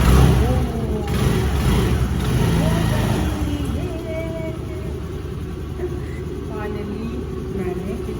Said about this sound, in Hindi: फाइनली मैंने किक स्टार्ट कर दी।